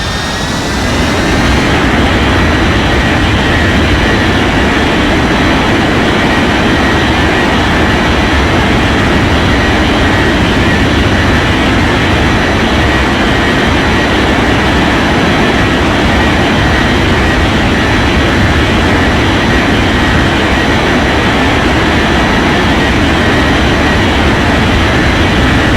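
An Air China airliner on landing approach roars loudly and steadily, a close, unbroken jet-engine drone lasting nearly half a minute.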